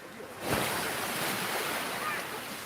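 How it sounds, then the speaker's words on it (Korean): Strong sea waves at Jeongja beach in Ulsan, a near, loud surging wash of surf that swells and hisses, with wind buffeting the microphone. "야, 파도가 이래 세다."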